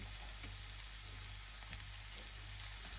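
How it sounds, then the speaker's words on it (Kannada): Whole spices frying in a pan for mutton sukka give a steady, close sizzling hiss that runs evenly throughout, with a low hum underneath and no voices. "ಇದೀಗ ಇದರಲ್ಲೆಲ್ಲ ಹಾಕಿ ಇದರ ಚೆನ್ನಾಗಿ ಹುರಿಯೋಣ"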